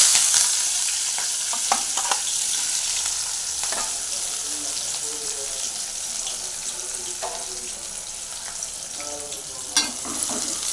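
Onions, green chillies and curry leaves sautéing in a hot pan, a close steady sizzle with scattered scrapes and taps of a spoon stirring, fading slightly in the middle before a sharper clatter near the end.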